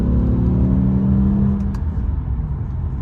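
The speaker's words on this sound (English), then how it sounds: "I'll give you guys a little gas here" A BMW M6 with a semi-automated gearbox accelerates under light throttle, a loud, steady low engine drone close by, with a rising tone in the first half that then settles into a rougher rumble.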